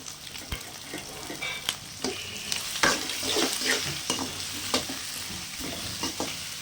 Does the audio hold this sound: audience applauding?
no